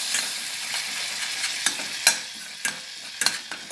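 A spoon stirs flour into melted butter in a pot for béchamel, with a steady soft sizzle and scrape. Sharper clacks of the spoon hitting the pan come through now and then, and no one speaks.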